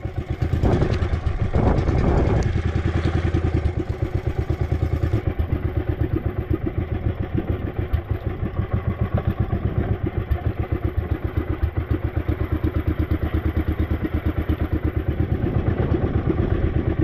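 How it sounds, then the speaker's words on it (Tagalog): A small boat engine misfires, running unevenly in a fast, sputtering chug, loud and close, with a few knocks and clatters at the start. "Palyado ang makina."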